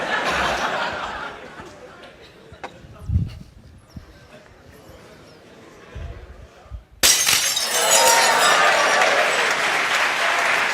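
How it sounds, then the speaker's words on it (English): Glass shattering in an MIT physics lecture demonstration: a sharp crash that breaks into loud, sustained applause and cheering from a large lecture-hall audience. "Students love it when the glass breaks."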